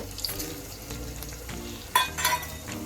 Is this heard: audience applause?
no